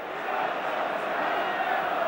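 A football stadium crowd of around 45,000 at an FA Cup match with Spurs, a steady expectant roar and murmur at moderate distance, with a commentator talking over it.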